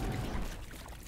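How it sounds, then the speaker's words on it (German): Wet squelching and splashing of water from the video game Grounded, a steady, fairly loud churning slosh lasting the whole moment with no talking. "Das Gematsche vom Wasser nervt irgendwie"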